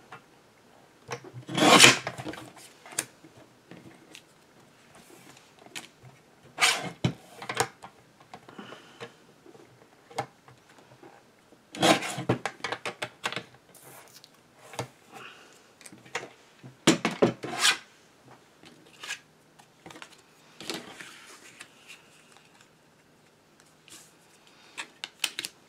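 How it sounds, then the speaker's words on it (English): Scissors or a blade cut a small piece of recycled card for a Christmas photo card, giving sharp scraping snips and rasping strokes in scattered close bursts with quiet gaps between them. "But let me just cut a little piece"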